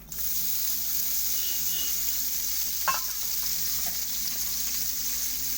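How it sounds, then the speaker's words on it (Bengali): Ridge gourd pieces frying lightly in a little oil, with a steady broadband sizzle throughout and a brief stir or clink near the middle, close and continuous with no talk. "আমি ঝিঙাগুলোকে হালকা করে ভেজে নেবো, সেজন্য অল্প তেল দিয়ে দেবো"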